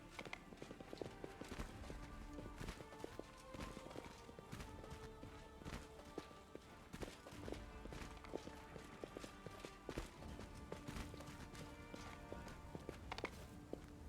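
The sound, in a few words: horse hooves clip-clop in Pathfinder: Wrath of the Righteous video game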